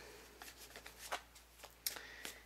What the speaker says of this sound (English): I have been shuffling off camera for a few minutes for you Virgo